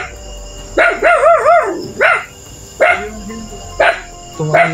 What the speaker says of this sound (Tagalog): Tumahal na yung aso.